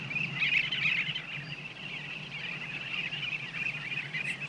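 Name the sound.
bee-eaters flying and calling over Africa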